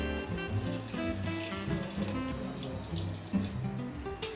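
Water pouring from a watering can or tap onto houseplants during plant care, a steady splashing flow close by and fairly quiet, continuing throughout with no talking.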